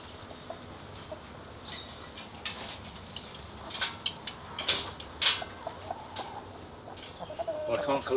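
Hens in a polythene-covered henhouse, one of them laying, give soft, scattered clucks against a quiet, steady background, with a few brief sharper calls standing out.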